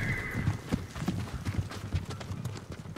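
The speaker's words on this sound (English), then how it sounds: "Horses." Hooves clip-clop in a quick galloping rhythm in the video game Ghost of Tsushima, several horses moving together at a moderate distance, with no speech over them.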